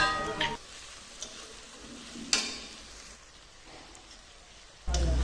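Hilsa fish frying in hot oil gives a soft, steady sizzle, with a few sharp clicks and pops rising above it now and then.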